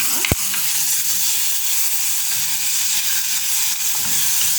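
Sliced lotus root being stirred in a hot pan gives a steady, close sizzle of frying, with a brief sharp knock near the start, and no voices.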